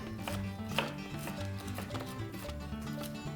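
Rapid knife chops through peppers on a cutting board, a quick irregular series of close taps with soft background music underneath.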